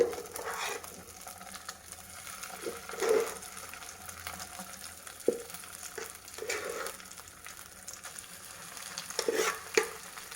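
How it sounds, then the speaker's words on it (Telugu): Mashed toor dal frying in hot ghee in a pan, a soft steady sizzle broken by bursts of stirring and scraping at irregular intervals, with no voices. "నెయ్యి వేడి చేసేసి దీంట్లో మనము ఈ మెదుపుకున్నాం కదండి, ఈ కందిపప్పుని వేసేద్దాం"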